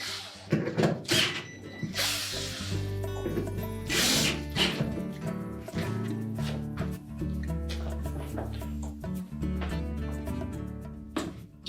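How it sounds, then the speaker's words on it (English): A ratchet tightens screws on a Whirlpool freezer door hinge, clicking in quick repeated bursts of close, crisp pawl ticks with a few louder clunks between runs. "Once we have it straight, we'll go ahead and tighten those screws."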